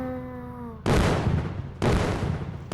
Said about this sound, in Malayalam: ആരാ പടക്കം പൊട്ടിക്കണേ?